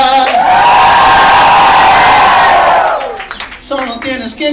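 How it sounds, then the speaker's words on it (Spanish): A worship crowd shouting together at a lively church service, one loud sustained roar of voices with whoops that swells and then breaks off, followed by scattered voices. "Y si lo quieres adorar, solo tienes que gritar."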